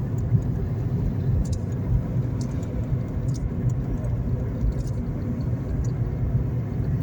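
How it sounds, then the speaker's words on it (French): A car with an automatic gearbox drives along and changes gears on its own, giving a steady, moderately loud engine and road rumble with no clear breaks. "vous pouvez entendre que les vitesses passent tout seules"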